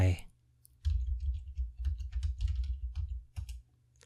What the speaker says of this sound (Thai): คลิกไปที่ ชื่อเรื่องของคอร์ส กดปุ่ม insert พิมพ์ข้อความลงไป